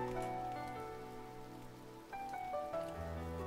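Steady rain in the Muv-Luv Extra visual novel game, a continuous soft hiss of drops falling on a surface that runs unbroken for the whole stretch beneath gentle background music, with no voices.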